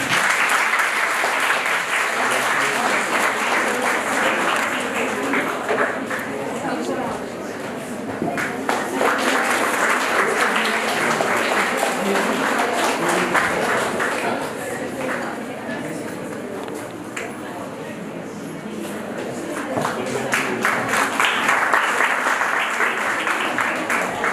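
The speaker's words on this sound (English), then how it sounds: "please applaud the women" An audience applauds women debaters at a prize-giving for a 70th anniversary of the Constitution of India event. The clapping is loud, dense and sustained, swelling and easing slightly over about twenty-four seconds.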